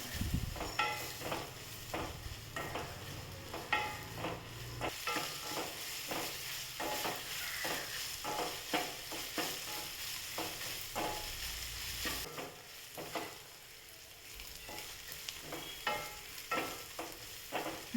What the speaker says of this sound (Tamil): இது வந்து நம்ம அப்படியே எண்ணெயில் வதக்கிட்டே இருக்கலாம்